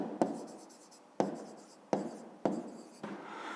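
A pen writing on paper in a maths exercise, five short scratchy strokes in a steady rhythm, close and clear against a quiet background.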